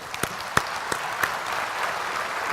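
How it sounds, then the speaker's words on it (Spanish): A short burst of clapping from a small audience welcoming a speaker at a presentation, several distinct claps at first blending into a light patter that fades out. "le pido un fuerte aplauso"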